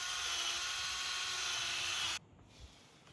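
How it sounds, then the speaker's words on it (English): A drill bores out a rivet on an awning pole, a steady high-pitched whine running for about two seconds before stopping abruptly, then a quiet pause with a faint knock. "So what you want to do is just drill out this rivet here."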